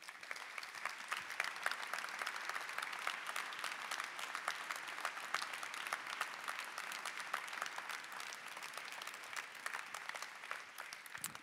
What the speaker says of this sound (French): je voudrais vous demander de les applaudir bien chaleureusement